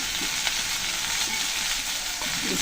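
Loud, continuous sizzling and frying as spices hit hot oil in a village kitchen pan, with occasional stirring scrapes under the steady hiss.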